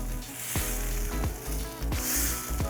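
Lump crab meat sizzles in a hot pan as it is stirred and tossed, with a steady close frying hiss broken by a few soft scraping strokes.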